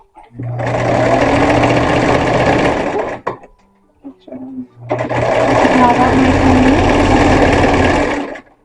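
A sewing machine stitching a pillowcase runs in two long, loud, steady bursts of rapid mechanical whirring, separated by a short pause with small clicks and handling noises.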